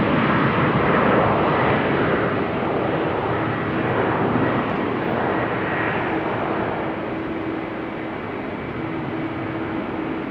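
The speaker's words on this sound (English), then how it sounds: "Embraer 195 off to Warsaw," Embraer 195 jet departing Amsterdam Schiphol Airport, a loud sustained engine roar and rumble that gradually eases, heard from a distance with no voices.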